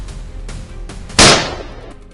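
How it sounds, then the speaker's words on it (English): A single sharp gunshot rings out at a herd of wild boar on a mountainside, loud and close, with a short decaying echo after a few faint earlier thumps. "he opened fire."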